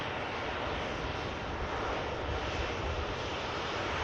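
An Emirates Airbus A380 departing Manchester Airport sends out a continuous low roar, steady and somewhat distant, with no talking.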